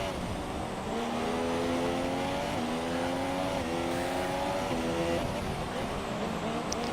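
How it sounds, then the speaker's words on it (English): Racing car engine in an F1 racing game, droning steadily, pitch rising and shifting through gears as it accelerates, loud and continuous. "I can actually hear HLG's car, I just can't see it."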